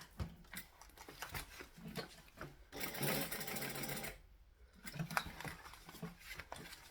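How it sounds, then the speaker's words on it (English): A sewing machine runs in short bursts, stitching forward and back with pauses while the work is swivelled, a fairly quiet close rapid patter broken by gaps. "I'm going to stitch, needle down, swivel back, stitch, back,"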